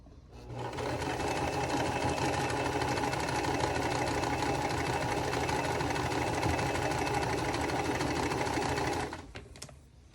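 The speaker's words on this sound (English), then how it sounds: "Okay, we're gonna sew all of them together like this" Sewing machine stitching quilt block pieces together in one continuous, steady mechanical whir lasting several seconds, close and alone, then stopping abruptly near the end.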